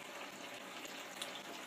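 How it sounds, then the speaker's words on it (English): Hot strike water pours steadily into a home-brewing mash tun on a HERMS brewing system, a continuous broadband splashing gush with no pauses, fairly close and moderately loud, with no voices. "just filling my strike water"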